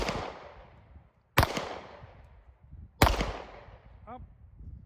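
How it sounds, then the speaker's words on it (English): Two handgun shots fired by instinctive point shooting at a target ten yards away on an outdoor range, each a loud, sharp crack followed by a fading echo, spaced about a second and a half apart, then a brief faint sound. "So just going to use my instincts, do a little point shooting, see how we do."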